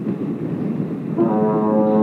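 A deep, distant horn blast starts about halfway through and holds steady as a rich, droning tone over wind rumble.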